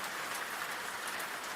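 Steady rain falling at night, a soft continuous hiss of drops with no other sounds and no voices.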